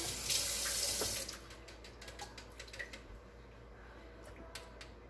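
Water gushes from a tap into a pan for about a second, then trickles and splashes with light clinks, close by and fairly quiet.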